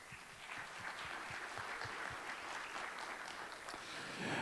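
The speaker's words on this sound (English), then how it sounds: "one more round of applause for Beto." Applause from an audience at a pitch competition event, a broad steady wash of clapping held at an even level for several seconds with no talk over it.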